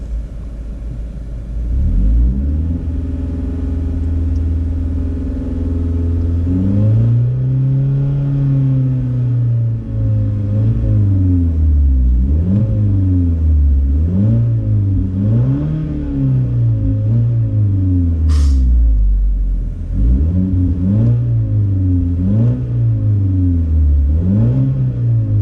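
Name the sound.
car engine revving at standstill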